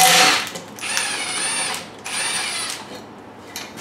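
A power tool or ratchet whirs in repeated bursts while backing out a 12mm bolt from a cover on a Honda Accord, close and loud, with short pauses between runs.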